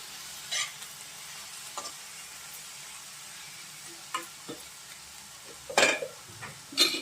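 Cluster beans stir-fried with salt in a pan: soft, intermittent spatula scrapes and stirring clatters over a faint, low sizzle, with a louder burst of stirring near the end.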